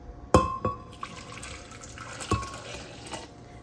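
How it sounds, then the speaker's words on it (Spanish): Boiling water is poured over carrot in a kitchen appliance, opening with a couple of glassy clinks, then a soft, continuous splashing pour with no talking. "Vamos a agregar también agua hirviendo."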